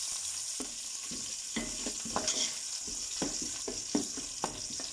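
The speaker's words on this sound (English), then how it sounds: "This is going to fry up." Chicken biryani ingredients fry in a big pot, a steady broadband sizzle with repeated scraping stir strokes at a fairly regular rhythm, close up and alone with no talking.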